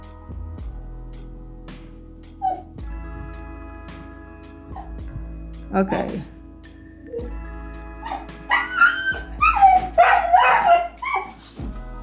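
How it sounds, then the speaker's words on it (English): Dogs bark, yip and whine in scattered bursts, growing busier and louder toward the end, with a brief spoken word and some background hum. "Crazy dogs."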